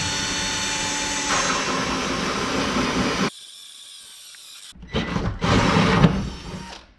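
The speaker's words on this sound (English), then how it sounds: "now I'm going to drill a hole saw hole down through here to run our plugs down" A hole saw bores down through wood to make a passage for plug cords, giving a loud, steady grinding whir that cuts off abruptly, pauses in near silence, then returns in two strong bursts.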